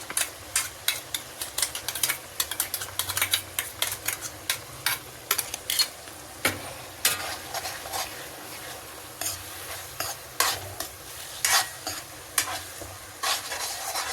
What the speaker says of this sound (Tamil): பச்சை வாடை போற வரைக்கும் வதக்குங்க.